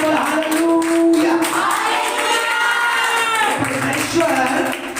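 A church congregation at a testimony service claps and shouts loudly in a sustained burst of cheering voices that fills the room before slowly easing off.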